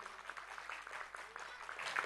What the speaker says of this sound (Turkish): Buradan hepinizden de onlara bir alkış istiyorum.